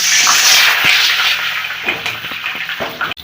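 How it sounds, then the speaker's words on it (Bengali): Chicken-stuffed potol (pointed gourd) lowered into hot mustard oil in a kadai bursts into a loud hissing sizzle that gradually settles, with a few soft knocks and a sharp clack at the end. "কড়ার মধ্যে সরষের তেল দিয়ে দিয়েছি তেল গরম হয়ে গেছে এবার আমি পটলগুলোকে তেলের মধ্যে ছেড়ে দিচ্ছি"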